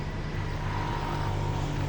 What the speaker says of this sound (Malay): Jentera pengorek pembersih sungai yang boleh masuk dalam air.